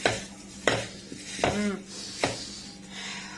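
A utensil scrapes and clanks against a pan while onion, green peppers and tomatoes are stirred together, making four distinct knocking strokes over a low sizzle, close by and fairly quiet.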